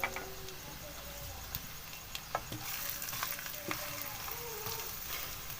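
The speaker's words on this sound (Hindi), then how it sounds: "ऑयल गर्म हो चुका है। अब इसके अंदर मैं डाल देती हूँ एक बड़े साइज़ की प्याज।" Finely chopped onion fries in hot oil in a karahi for a liver masala, a soft but continuous sizzle broken by scattered spoon scrapes and stirring clinks, close and fairly quiet.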